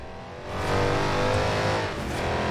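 A Dodge Challenger Hellcat with a 6.1 engine races in Forza Horizon 4, its loud engine droning steadily and swelling as it accelerates hard, with no talk.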